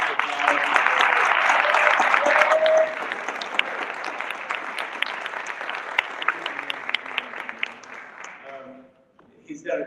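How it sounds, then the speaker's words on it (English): Audience applause for Bill Hollander, the current District 9 representative, at a candidates forum: dense clapping that is strongest for the first three seconds, then thins out and fades. "give a big round of applause to Bill Hollander"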